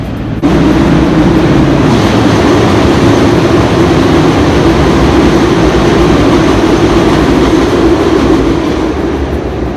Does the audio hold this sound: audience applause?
no